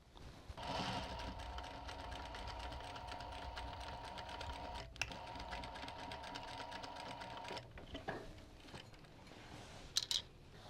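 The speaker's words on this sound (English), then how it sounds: "I'm just going to sew up to that point and back stitch" A domestic sewing machine stitching a rolltop rucksack seam, running in one long steady whir, pausing briefly, then a short reverse burst for the back stitch, followed by a few small clicks.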